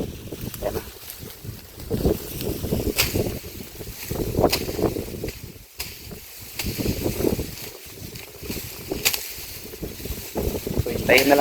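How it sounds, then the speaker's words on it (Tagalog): Gusty wind sweeps across an open field, buffeting the microphone in uneven surges while a person talks over it now and then. "Wow, lakas ng hangin."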